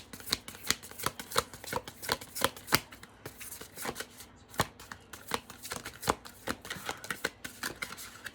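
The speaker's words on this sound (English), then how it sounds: "I don't know if you can see the way I'm shuffling" Playing cards being shuffled by hand in repeated crisp riffles and snaps, close and fairly loud, with no talking over the steady flicking rhythm.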